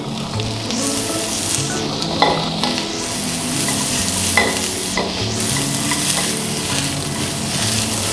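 Vegetables, spring onions held back, being stir-fried in a pan for a sweet and sour dish: a steady sizzle with repeated scraping stirs and a few clinks of the utensil against the pan, close and fairly loud.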